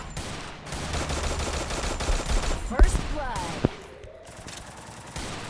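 Rapid automatic gunfire rattles in the Free Fire battle game, dense bursts with sharp single shots and a brief lull, loud and close.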